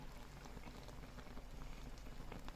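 Curry pork stews on the lowest heat under a large metal plate used as a lid, giving a faint, steady crackle of gentle bubbling throughout.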